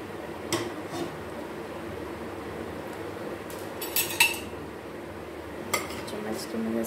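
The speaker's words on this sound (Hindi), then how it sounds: "फर्स्ट मैं इसे मिक्स करती हूँ।" A spoon stirs chana dal in a pot, giving scattered metallic clinks and scrapes against the vessel over a quiet background, with a few sharper knocks spaced irregularly.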